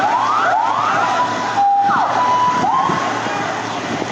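Ambulance and fire engine sirens wail together at a plane crash site in a residential area of Karachi, overlapping rising sweeps and steady tones, loud and continuous.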